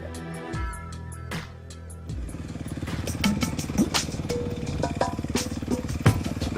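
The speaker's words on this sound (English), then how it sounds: "So I always like to be in maybe second gear, fan the clutch just a little bit and just keeping the front wheel down so the bike's just pulling you all the way up the" An off-road motorcycle climbs a hill in second gear, engine note starting with a few revs then settling into a steady, strong pulling drone with rapid firing pulses and occasional clatter, fairly close.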